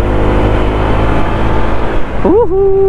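Honda Click 160 scooter being ridden, a loud continuous engine and road rumble, with a voice briefly rising over it near the end.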